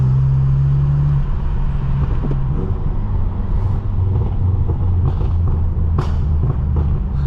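A BMW M6 heard from inside while driving on a cold day, a loud steady engine and road rumble with a low drone that shifts pitch as it moves, no talking.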